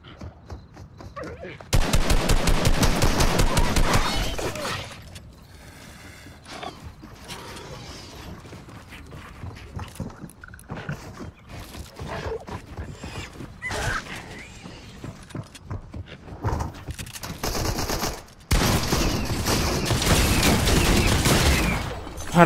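Repeated shotgun and other gunfire bursts in Fortnite, loud and dense across the stretch, with brief quieter pauses between volleys.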